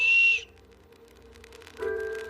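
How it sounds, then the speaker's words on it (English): A single short, shrill whistle blast, loud and close, followed by quiet room sound and a faint tone at the end. "And here's a plain ordinary whistle."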